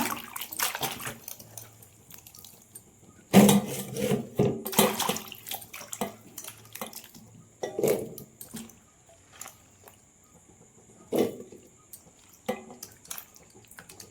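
Peeled raw plantain pieces are washed by hand in a vessel of water, giving intermittent sloshing and splashing bursts with quiet pauses between them.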